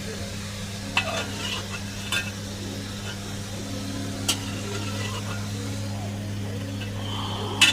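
Garnish for fried chicken biryani fries in hot oil, a steady close sizzle with occasional clinks of a utensil stirring and scooping in the pan.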